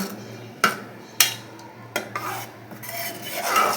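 A lid clatters onto a pot of ghugni spiced with garam masala, giving several sharp metallic clanks and knocks close by, with faint scraping between them and no voices.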